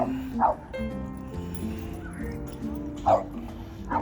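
A few short dog yips and barks ring out at moderate distance in a dog park, two sharp bursts separated by a steady murmur of background noise.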